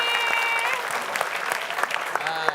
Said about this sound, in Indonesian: Tepuk tangan buat Bung Yogi